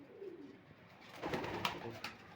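Pigeons coo softly inside a loft where a young pair sits on eggs, low murmuring calls overlapping against a faint background.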